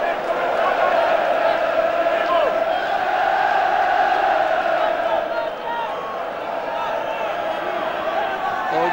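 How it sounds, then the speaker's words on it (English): A huge football crowd of Dundee United and Dunfermline fans at Tannadice stadium, a dense roaring wall of cheering and chanting that holds steady throughout, with a commentator speaking over it. "thoroughly welcomed by this huge Tannadice crowd"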